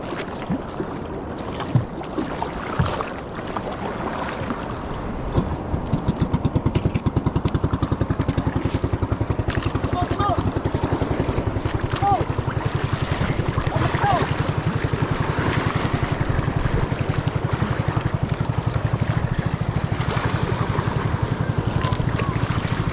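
Sea waves wash and slap steadily around a small boat out on the water, with strong wind buffeting the microphone throughout; the rushing, churning noise stays loud and continuous, and a voice speaks briefly in the opening seconds.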